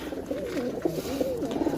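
Pigeons from a loft of fancy breeds coo steadily and close by, layered low calls overlapping with no talk.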